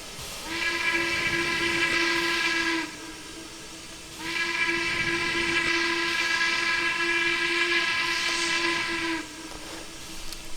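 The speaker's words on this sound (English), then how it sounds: "It's got an awesome sounding whistle." Two sustained blasts from the Harriman MC-1 2-8-8-2 steam locomotive whistle in the Trainz 2019 simulator, each several seconds long with a clear tonal chime and a short break between them, loud and alone over light hiss.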